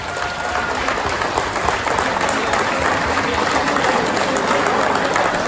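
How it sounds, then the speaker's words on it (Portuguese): Steady applause from an audience of women and guests at the 16th anniversary celebration of the Associação Agualva de Cima near Lisbon, dense, continuous clapping holding at an even level for several seconds. "um aplauso para as mulheres da Agualva"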